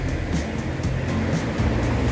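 Steady rushing water of the Beas river on the road to Manali, a dense, continuous roar close by with no breaks, heard alone without any talking.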